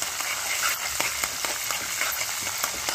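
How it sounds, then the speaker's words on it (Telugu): Five or six large green chillies fry in hot oil, a soft continuous sizzle and crackle with faint pops, heard close and fairly quiet, with no voices. "ఇవి ఇలా వేయించేసుకోవాలి."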